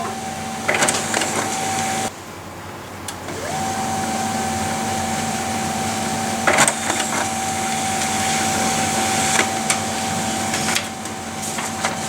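An HP laser printer (M1218nfs MFP) prints a demo page with a steady mechanical hum and a faint whine, broken by clicks and brief clunks as paper feeds through, close up.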